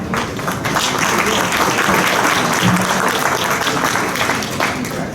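Steady audience applause at a South Carolina history symposium, loud and continuous for the full stretch with a dense wash of many hands clapping, a faint murmur of voices mixed in.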